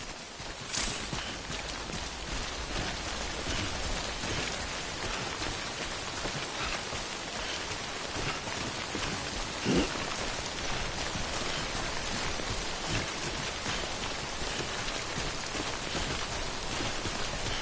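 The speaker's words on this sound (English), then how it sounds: "Don't stay out in the rain any longer than you have to." Steady, dense rainfall from the game's timefall storm pours down over the whole stretch, a constant close hiss with no talk.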